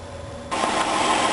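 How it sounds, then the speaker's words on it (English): A Honda Odyssey engine, freshly refilled with coolant after a thermostat replacement, catches abruptly halfway through and settles into a steady, loud running whir up close. "start the engine and let it run"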